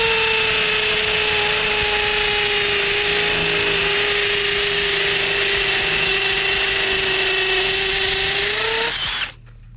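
A PUMA PM-280BL cordless brushless drill runs on high mode with a loud, steady whine that holds its pitch for several seconds, then cuts off abruptly near the end.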